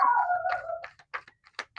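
A dog downstairs lets out a long wavering howl, then several short muffled yelps and barks in quick succession, heard from a distance indoors.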